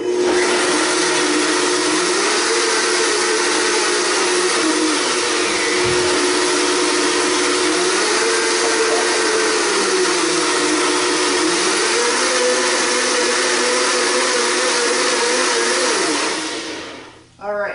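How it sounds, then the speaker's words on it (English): A high-powered Blendtec blender roars loudly and steadily for about sixteen seconds, blending a mango lassi, its motor pitch rising and dipping slightly, then cuts off abruptly. "I've got a BlendTech blender, which is the blender that Jamba Juice uses"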